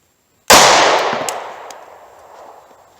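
A single loud .38 Special gunshot from a Super X jacketed hollow point round fired into wood, a sharp crack followed by a decaying ring over a couple of seconds, with no voices.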